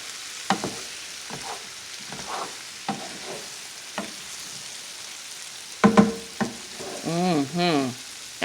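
Sausage and potatoes browning in oil in a pan, a low steady sizzle punctuated by scraping and tapping of a utensil, with a voice briefly humming near the end.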